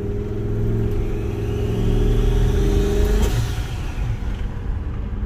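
A turbocharged Ford F-150 Lightning with a 2V motor accelerating hard in traffic, a loud steady engine roar building with a rising whine from the turbo spooling up, close and continuous with no voices.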